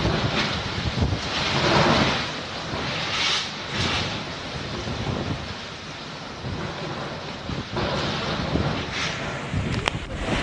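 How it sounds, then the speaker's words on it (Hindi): Strong cyclone wind at the sea near Alibag roars through the microphone as a loud, continuous rush, swelling and easing in gusts, with waves churning underneath. "तेज रफ्तार से हवा चल रही है।"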